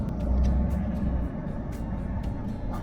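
A 1979 GMC 6000 truck rolls down a hill after a tractor push, heard as a low continuous rumble with faint rattles and clicks over its length.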